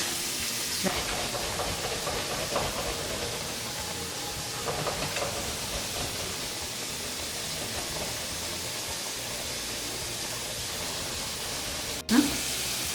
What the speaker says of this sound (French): là mes épices sont en train de se bouillir